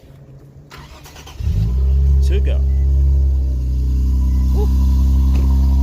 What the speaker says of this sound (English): Give the car a startup.